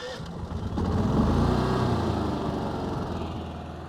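A Predator 11,500-watt tri-fuel inverter generator starts and settles into a steady running drone, the engine rising briefly before holding an even, moderately loud hum close by.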